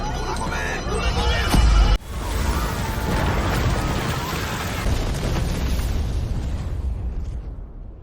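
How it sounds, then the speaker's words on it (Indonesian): A loud, sudden bomb explosion booms in a hall near the start, followed by a long, roaring rumble of debris and fire that slowly fades out. "Andu meledakkan bom yang ia pasang, membunuh seluruh orang yang terperangkap dalam aula tersebut."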